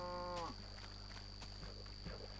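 A single low, synthetic-sounding Minecraft cow moo rises and fades, followed by faint clicks over a steady electronic hum.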